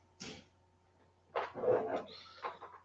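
A dog gives a short yip, then a few quick whimpering barks and whines nearby, quiet and brief in an otherwise still indoor room.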